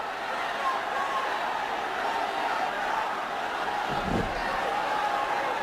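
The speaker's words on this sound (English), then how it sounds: "And a sellout chant from a sellout crowd" A sellout wrestling arena crowd chants in a steady, dense roar that holds at an even level throughout, with no break and no single voice standing out.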